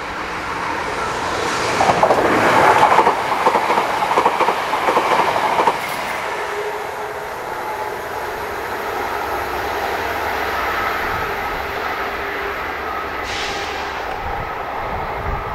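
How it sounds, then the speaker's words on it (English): A train passes on the Breckland Line at Spooner Row station with a burst of rushing noise and rattling early on, then settles into a steady, fainter rumble as it moves away. "I can see the train coming the other way"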